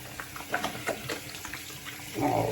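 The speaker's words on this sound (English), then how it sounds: "Excuse me for 1 minute while I wash these hands." Tap water runs steadily into a sink while hands are washed of beard butter, with soft splashing and rubbing, swelling into a louder, fuller stream near the end.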